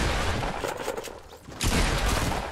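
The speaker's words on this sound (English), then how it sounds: "He's got one tap by a deagle." Desert Eagle gunfire in Fortnite, a loud close burst of shots, a brief dip, then another dense booming volley, with no talk.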